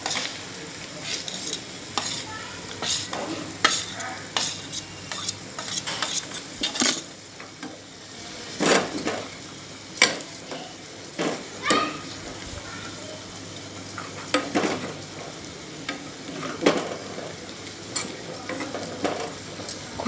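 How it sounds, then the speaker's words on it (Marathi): A spatula scrapes and stirs dry coconut in tempering oil in a pan with a low sizzle beneath, irregular clinks of metal against metal every second or so. "सुक्या खोबऱ्याला गोल्डन कलर येईपर्यंत परततच राहायचं आहे आपल्याला"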